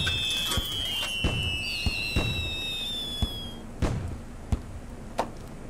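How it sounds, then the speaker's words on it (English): Fireworks in the Little Inferno video game, a series of sharp cracking pops at irregular intervals over a steady crackling bed, with high whistling streaks rising early on, loud and close, with no talking. "Look at that. Fireworks."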